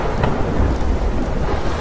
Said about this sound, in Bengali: তুমুল ঝড় বৃষ্টি শুরু হলো, আর সেই রকম বাজ পড়ার শব্দ।